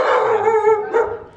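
A dog on a street in Moquegua, Peru, gives a short, close, loud bark or yip, alone.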